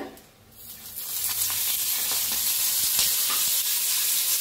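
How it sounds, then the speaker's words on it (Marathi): Peanuts, garlic and green chilies roast in hot oil in a pan with a steady, close sizzling hiss that swells after a brief quieter start, with light stirring scrapes and no voices. "भाजायला आले शेंगदाणा लसूण मिरची"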